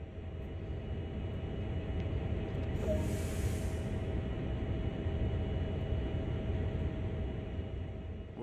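A train's air brakes release in Train Sim World with a short burst of high hiss lasting about a second, over a steady low rumble of the idling locomotive cab.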